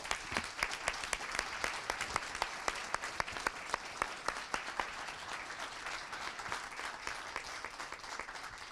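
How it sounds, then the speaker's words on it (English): Moderate, steady applause from attendees at a city council meeting in Salem, a dense patter of many hands clapping continuously at an even level. "You can clap."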